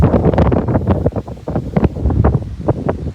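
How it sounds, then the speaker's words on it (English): Strong wind buffets the microphone in loud, uneven gusts while an Oliver Super 66 tractor discs a field, a continuous roar with rumbling surges and no talking. "Once again, still windy."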